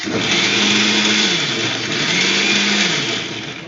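A mixer grinder grinding onions runs loudly and continuously, its motor pitch dipping briefly twice as it grinds, with no voices.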